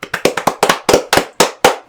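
A handful of sharp, irregular claps ring out close by, a brief scattered burst of hand clapping.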